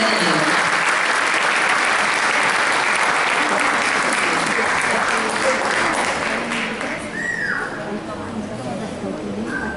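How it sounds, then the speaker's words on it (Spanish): Loud, sustained applause fills a school festival audience for nearly ten seconds, dense and steady, easing slightly toward the end as a voice talks faintly underneath. "Un fuerte aplauso por su maravilloso obsequio para nuestra directora de esta mujer."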